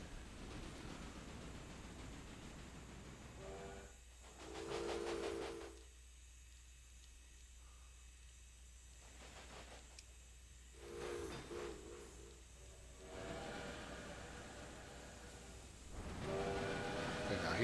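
A steam train in the railway management game Railway Empire hisses steadily under a background wash of noise, with bursts of louder steam venting and short whistle-like tones recurring every few seconds.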